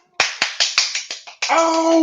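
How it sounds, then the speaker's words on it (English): A short burst of hand clapping, about seven sharp claps in an uneven rhythm, close and fairly loud, followed by a sustained noisy hum. "Oh, you're clapping."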